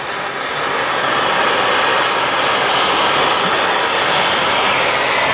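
A heat tool blasts a seized part on a Yamaha YFZ 450 quad, a loud, close, continuous rushing hiss that stays steady from start to finish with no talking.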